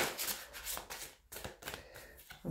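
Oracle cards are shuffled by hand for a daily fairy card reading, giving a close, crisp run of riffling, slapping bursts with brief pauses between them.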